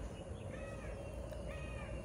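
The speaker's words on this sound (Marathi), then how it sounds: "आवाज नाही कसला, फक्त पक्ष्यांचा आवाज." Crows cawing in a quiet spot near Alibaug, a few harsh calls set against a steady low background hum, with no talk.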